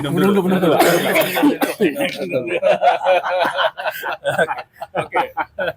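Several short coughs break out amid close conversation, mixed with brief snickering bursts and throat sounds as people keep talking.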